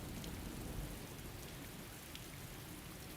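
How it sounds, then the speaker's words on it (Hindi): Heavy rain pours steadily, a dense, even hiss of drops striking surfaces that holds at a constant level throughout, with no voices. "बारिश बहुत हो रही है, अंदर चलते हैं।"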